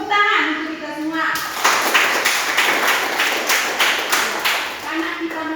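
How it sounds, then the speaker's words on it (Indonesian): A classroom of pupils claps together in quick, dense, steady applause after a short stretch of speech, the clapping loud and close and lasting several seconds. "Tepuk tangan untuk kita semua."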